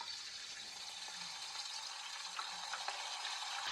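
Pork chunks for Puerto Rican carne frita frying in hot oil in a pan, a steady, fairly quiet hiss of sizzling with a few faint pops and crackles, no talking.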